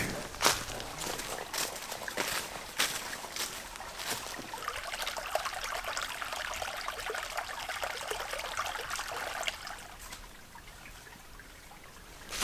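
Autumn creek water trickles softly beside a trail in Uwharrie National Forest, a faint steady burble with a few footstep-like scuffs and bumps, fading a little toward the end.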